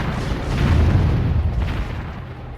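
Mortar fire in a video game, a sustained heavy booming rumble with rolling low-end blasts blending together at close range, loud and steady with no voices over it.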